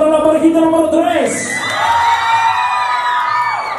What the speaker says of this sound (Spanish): Una vez más, aplausos para la parejita número 3.